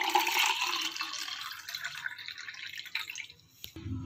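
Mint lemonade with strained nimbu pudina being poured into a glass, a steady close liquid splash and trickle that thins out toward the end, followed by a brief clink.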